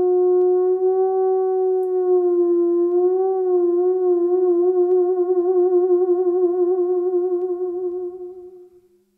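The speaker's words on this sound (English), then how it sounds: "It is an oscillatory movement between two sounds" A single theremin tone sustains for several seconds, steady at first and then wavering with a growing vibrato before fading out, clear and close with no other sound.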